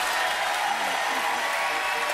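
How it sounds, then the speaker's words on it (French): Steady applause from an audience, a broad wash of clapping with some voices mixed in, lasting the whole moment. "Mesdames, messieurs, applaudissements."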